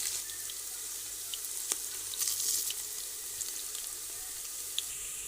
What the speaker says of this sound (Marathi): आता आपण याच्यामध्ये खडे मसाले घालून घेऊयात